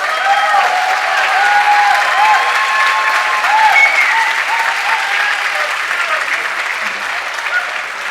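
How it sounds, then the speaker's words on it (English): An audience at a Polo Hall of Fame induction ceremony applauds, a dense, sustained round of clapping that stays loud and even throughout, with a faint crowd murmur underneath. "If you would all stand up and give them a round of applause."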